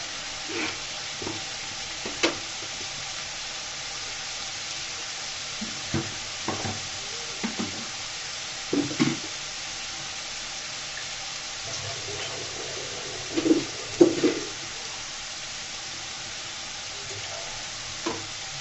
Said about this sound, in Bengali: আদা রসুন পেঁয়াজগুলো সুন্দর করে আমি ভেজে নিব